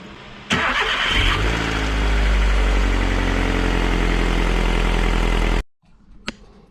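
A Mitsubishi Colt Ralliart engine cranks and catches, then runs at a steady, close, loud idle with a low rumble for several seconds before cutting off abruptly, leaving near quiet.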